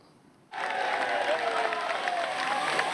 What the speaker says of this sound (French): Encouragements, cris et applaudissements, une vraie aide d'honneur pour les coureurs du Tour de l'Avenir.